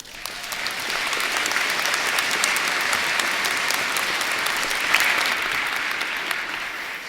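An audience at a 2022 Texas Woman's University commencement ceremony claps steadily, sustained applause filling the hall at a consistent level for several seconds.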